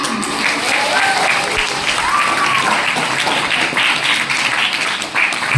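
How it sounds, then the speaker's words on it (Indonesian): Audience applause at a school seminar on local Luwu culture, welcoming the speaker Bapak Bakri BA: steady dense clapping from a room full of people, sustained at even loudness throughout, with a few faint voices mixed in. "Kita beri tepuk tangan yang meriah dulu untuk Bapak Bakri BA"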